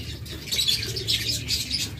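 A young pair of yellow collar lovebirds gives soft, repeated high chirps and twitters close by, with a low background hum and no talking.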